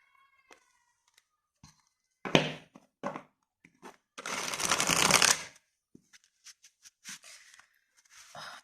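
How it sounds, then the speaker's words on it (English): Large tarot cards are shuffled by hand, with irregular bursts of riffling and rustling, a few soft taps and one longer riffle, close and fairly quiet, with no voice. "It's always hard to shuffle these big cards."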